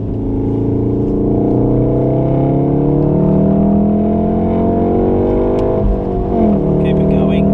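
A VW Golf R laps the Wakefield race track, its engine droning loud and steady from inside the cabin as revs climb and shift, with an instructor talking over it.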